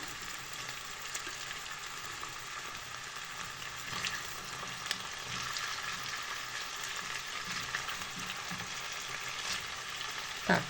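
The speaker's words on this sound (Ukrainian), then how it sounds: "Наша картопелька смажиться." Potatoes sizzle and crackle steadily in a hot pan, a continuous frying hiss with occasional pops and a brief clatter at the end.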